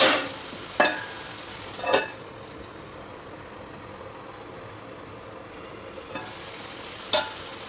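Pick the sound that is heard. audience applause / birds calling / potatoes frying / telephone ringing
potatoes frying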